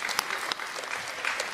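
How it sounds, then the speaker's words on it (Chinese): A comedy-show audience breaks into applause at a crosstalk performance, a fairly quiet, even wash of clapping with a few sharper claps, heard from a distance without voices on top. "鼓掌吧！"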